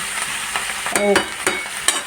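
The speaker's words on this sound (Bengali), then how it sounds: "প্রথমে দিয়েছি আমি তেল, পেঁয়াজ আর কাঁচা লঙ্কা লম্বা লম্বা করে বানিয়ে দিয়েছি ভাজার জন্য" Oil sizzles steadily in a pan as sliced onions and green chillies fry, with a few sharp scraping stirs of a utensil breaking through, close and clear.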